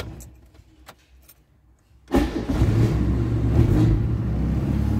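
A 1991 Fiat Premio engine is started with the key after a few faint clicks, catching at once with a short crank and then settling into a steady, close idle rumble.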